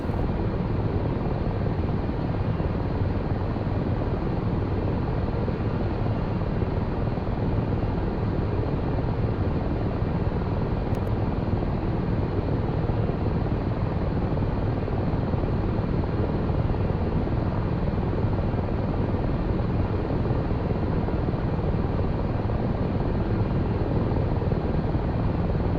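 A steady, dense Ka-50 attack helicopter rotor and turbine roar while taxiing in a flight simulator game, loud and constant throughout with no pauses or other sounds.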